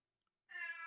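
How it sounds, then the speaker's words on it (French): A house cat gives a single clear, drawn-out meow that starts about halfway through and carries on loudly to the end after near silence, with no one talking. "Mon chat n'est pas d'accord."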